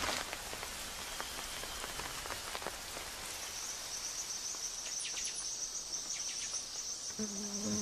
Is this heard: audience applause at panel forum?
no